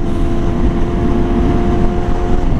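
A Yamaha R6 motorcycle with a loud Akrapovic slip-on exhaust drones in a steady, deep, close engine rumble with no pauses.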